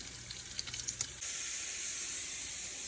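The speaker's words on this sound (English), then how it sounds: "I left a little bit of bacon fat in the pan and I chopped up my cabbage" Chopped cabbage sizzles in leftover bacon fat in a pan, a faint steady hiss that settles in after a few soft clinks and taps at the start, with no voices.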